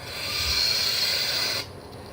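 A lightsaber sound font on an RGBW 3/4 chassis saber gives a steady hissing, fiery crackle like a fireplace, holding for about a second and a half before cutting to a quieter hum.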